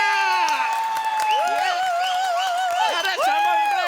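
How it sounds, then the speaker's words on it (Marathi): A stage comedy show audience claps and cheers loudly, the applause mixed with excited shouting and overlapping voices that continue throughout. "जोरदार टाळ्या."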